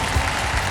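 A brief, dense wash of studio audience applause on the Indian TV quiz show Kaun Banega Crorepati, steady and fairly loud throughout.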